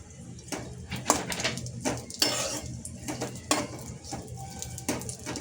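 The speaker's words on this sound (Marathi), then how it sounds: "तर आपल्याला इथे गोल्डन होईपर्यंत आपल्याला भाजून घ्यायचं आहे खोबरं" Coconut dry-roasting in a pan, stirred with a metal spoon that scrapes and clinks against the pan in irregular bursts, with a faint sizzle beneath and no talking.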